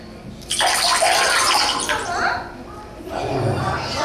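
Cool, clear water splashes and pours steadily onto a burn for a few seconds, close and fairly loud, with a short pause and then more trickling.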